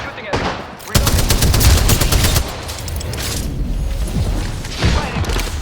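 Automatic gunfire in the video game Apex Legends, loud rapid bursts of shots with booming impacts, close and continuous, briefly easing before another burst.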